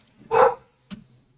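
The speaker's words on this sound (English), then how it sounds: "Dogs were going crazy, and they still are a little bit." Dogs bark in a home setting: one loud, full bark, then a shorter, quieter yelp a half second later, with near silence between.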